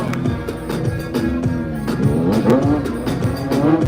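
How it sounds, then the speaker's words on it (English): A sport bike engine is held against its rev limiter, giving a loud, sustained, stuttering high-rev drone with rapid fluctuations. "Brochet got it bouncing off the red limiter right here."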